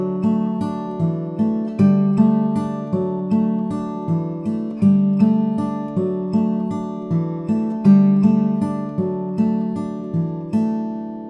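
An acoustic guitar fingerpicks the verse pattern of a song arrangement as a steady repeating cycle of plucked bass and treble notes, close and clean, with no voices.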